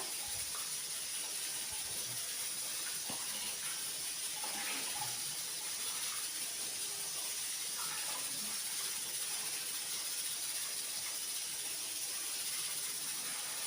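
An aloo paratha roasts on a hot griddle, making a faint, steady hiss with a few soft crackles throughout, quiet and uninterrupted by speech.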